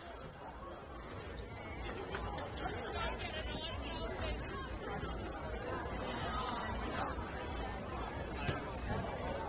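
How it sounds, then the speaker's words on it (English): Steady crowd chatter and murmuring from spectators at a senior women's football match in the NTFA Premier League, a continuous hubbub with scattered voices throughout. "Good crowd building up today, yeah?"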